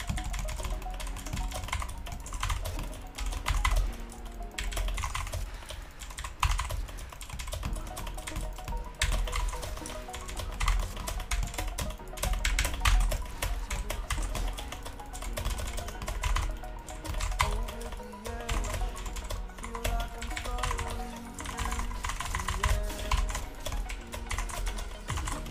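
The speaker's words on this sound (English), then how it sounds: "I'm pressing the keys like LS does" Computer keyboard keys clatter in a steady, busy stream of rapid presses during a League of Legends match, close and continuous over a dense background of game sound and music.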